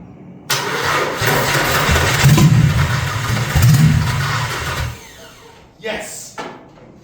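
A six-cylinder engine with newly rewired headers cranks, catches and runs loud and rough for several seconds before shutting off abruptly, followed by brief clunks and a short voice.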